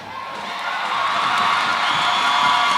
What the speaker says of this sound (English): You definitely can hear the applause from the girls from the St. Joseph's Convent, St. George's.